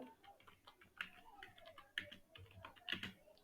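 Faint, irregular clicks of keys on a computer keyboard, typed during an HTML coding lesson, with a few slightly louder key presses standing out in a quiet room.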